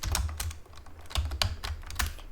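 Quick bursts of computer keyboard typing, close and crisp, with irregular clusters of keystrokes and short pauses while a deploy command for an SAP CAP HANA database project is entered.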